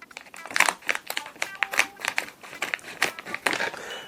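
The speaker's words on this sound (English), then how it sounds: "Is this a sealed bag? Yes, this is a sealed bag. I'll take to it with my scissors." Crinkly plastic crackling and snipping close up, a run of short sharp bursts as a sealed bag is cut open with scissors.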